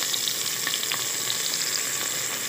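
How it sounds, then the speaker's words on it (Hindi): Tomatoes and green chilies frying in a pan for chana dal, a steady, close, even sizzle that holds unbroken throughout with faint crackles on top and no voices. "और इसे हल्का सा फ्राई करेंगे।"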